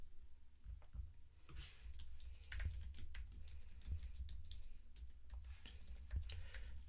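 Fingers type on a computer keyboard with quick, irregular key clicks in short bursts and brief pauses, heard close and fairly quiet with no voices.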